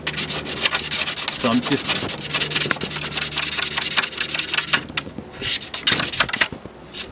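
Handheld blade scraping and rubbing excess resin off a repaired Laser dinghy foil, giving a steady close-up stream of rasping strokes with a brief spoken phrase near the start.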